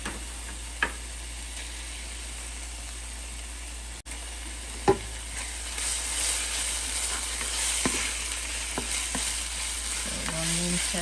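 Ginger garlic paste frying with browned onions in a pan, a low continuous sizzle with a few sharp spoon clicks, the frying growing louder and brighter midway.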